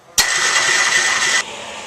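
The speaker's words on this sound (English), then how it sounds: "we're going to turn the engine over, but do not expect it to start as there is no fuel hooked up" Kubota Z482 diesel engine cranking over on its starter with no fuel connected, a loud steady whirring drone that begins abruptly and runs for over a second before dropping off, heard alone.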